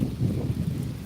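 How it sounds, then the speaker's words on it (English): Wind buffets a microphone outdoors, a low muffled rumble that swells and stays steady for about a second. "Windy."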